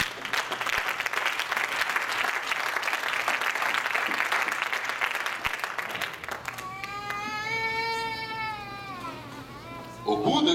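Church congregation clapping in sustained broadband applause for about six seconds, then fading into a high, wavering animal-like cry with rising and falling tones before a final burst of noise.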